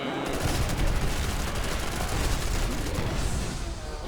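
Dense, loud video game gunfire with grenade explosions, rapid shots overlapping in a continuous barrage for about four seconds.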